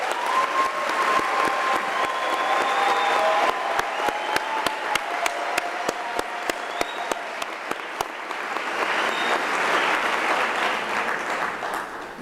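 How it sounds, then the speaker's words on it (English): Graduation ceremony audience breaks into sustained applause, a dense wash of many hands clapping steadily for about twelve seconds, with sharp rhythmic beats cutting through the middle stretch and faint voices and tones drifting underneath. "deserve a good round of applause."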